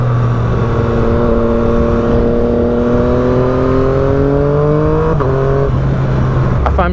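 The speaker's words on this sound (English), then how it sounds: "that Competition Works exhaust has to be up there too. It just sounds so wicked when you're getting on the throttle" A Yamaha FZ-09 three-cylinder motorcycle with a Competition Works exhaust rises steadily in pitch as it accelerates through a gear, shifts with a brief dip, and pulls again, loud and close with wind rush under it.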